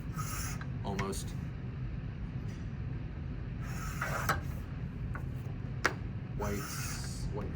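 A cutter trims the white edge off mount board with rasping, scraping strokes in short bursts and faint clicks between them, close by over a low background rumble.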